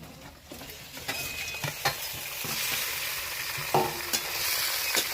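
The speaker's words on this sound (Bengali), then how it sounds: "এই যে বনে বনে রেখেছি হাঁসের মাংসগুলো, এখন আমি ছেড়ে দেবো।" Pieces of duck meat fry in a pan of hot oil with tempered spices, onion and garlic, giving a continuous sizzle broken by scraping stirs and a few sharp clatters of a utensil against the pan.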